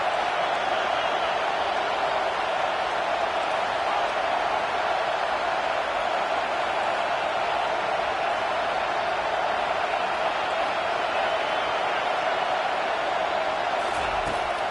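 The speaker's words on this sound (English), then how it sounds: "Decibels rising as the crowd gets behind this defense on third down." A dense, steady roar fills a college football stadium during Nebraska vs Ohio State, a constant wash of massed crowd noise with no breaks, loud and enveloping throughout.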